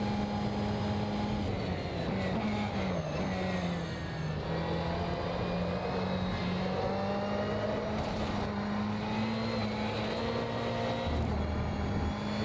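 A race car engine droning steadily through a lap in the rFactor 2 driving sim, a constant buzzing whine that rises and dips slightly with throttle, close and loud, with no talking.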